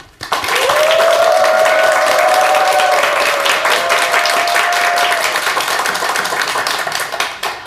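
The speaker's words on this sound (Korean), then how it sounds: "박수로 본격적인 강의를 청해드리겠습니다" Loud studio audience applause on a Korean morning talk show before a lecture begins, a full dense burst that swells quickly and holds steady, with a faint tonal sound running briefly beneath it.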